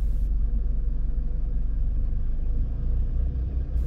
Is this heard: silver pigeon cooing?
no